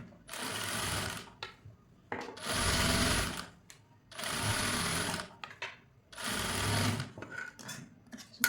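A sewing machine stitches a blouse in four loud, close bursts of rapid whirring, separated by short pauses with light handling noises of cloth, and no talking.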